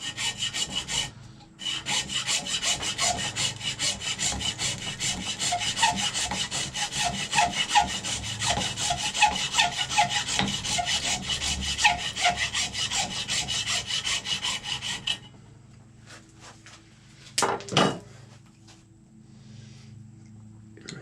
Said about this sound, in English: you're going to take your hacksaw